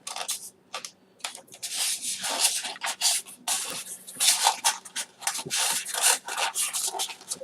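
A Blue Yeti USB microphone being pulled from snug packaging: repeated close rubbing, scraping and rustling of material in uneven bursts, with short pauses, no talking.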